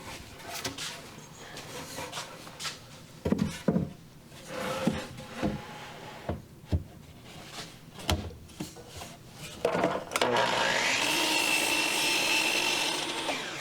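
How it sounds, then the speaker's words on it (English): Wooden boards for a small bar top being cut, with rubbing and knocking handling sounds on wood, then a loud steady power-saw whine that runs through the final few seconds. "I'm just going to cut it exactly 5 feet"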